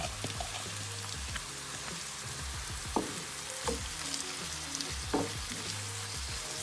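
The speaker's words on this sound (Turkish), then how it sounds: "Şimdi yıkadım ve süzdüm pirinçleri döküyorum. Kavuracağım." Washed and drained rice and bulgur toasting in a pan for a Turkish anchovy pilaf, giving a steady close sizzle and crackle with scattered grainy ticks and occasional louder taps, no voices.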